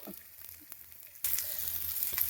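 Onion with turmeric and chilli powder, then leafy greens, frying in a pan: quiet at first, then a loud, steady sizzle bursts in partway through and keeps hissing to the end, with no talk.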